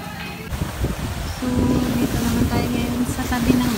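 Waves washing at the sea by a resort bay in Anilao, Batangas, a steady broadband surf wash with wind buffeting the microphone and a low motor hum from a nearby boat.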